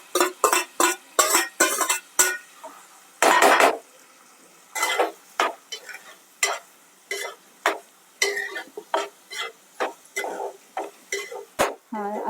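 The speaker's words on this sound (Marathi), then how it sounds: "हा कांदा त्याच्यात परतून घ्यायचा" Onion frying in oil with a piece of cinnamon and a few cloves, stirred with a spoon that scrapes and knocks against the pan in short, irregular bursts over a quiet background.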